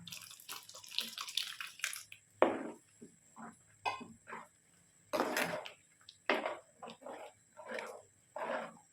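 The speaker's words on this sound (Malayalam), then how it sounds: "കുറച്ച് അരപ്പുവെള്ളം കൂടെ ഒഴിച്ചു കൊടുക്കാൻ." Thin ground-coconut paste water is poured into a gooseberry curry in short, splashy bursts with pauses between, close and fairly soft.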